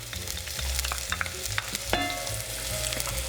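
Chopped onion and garlic frying in a pan, stirred with a utensil: continuous close sizzling with scraping and clicking strokes of stirring, no talk.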